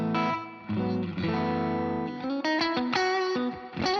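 Electric guitar through a '65 Deluxe Reverb amp simulator plugin with a driven, effected tone, sustained chords followed by a quicker run of picked notes, played alone with light ambience.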